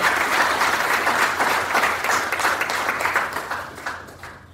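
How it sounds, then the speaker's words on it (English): Sustained applause from an audience at a university sports awards ceremony, a dense, even wash of clapping that holds steady for several seconds before starting to fade. "So let's give a round of applause."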